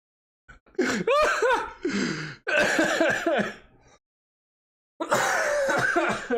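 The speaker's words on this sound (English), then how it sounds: "whenever I start laughing like this, I start coughing." Harsh, repeated coughing fits follow a burst of laughter from one nearby person, coming in several loud clusters separated by brief pauses, with throat clearing mixed in.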